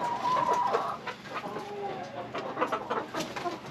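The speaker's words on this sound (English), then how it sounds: "That rooster right there." A homestead rooster calling with clucking and crowing-like cries, fairly close and loud, repeating across the clip over farmyard background noise, with no talking.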